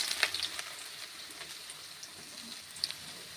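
Onions fry in hot oil in a kadai, a quiet steady crackle and hiss with small spattering pops and a few light clicks.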